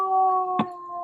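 A dog howls in a long, steady, tonal note, with a brief sharper yelp or bark breaking in near the middle, close and fairly loud, no talk.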